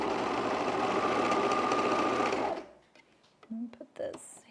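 Serger sewing machine running fast and steady, a loud continuous whirring hum that stops abruptly, followed by quiet handling clicks and someone talking.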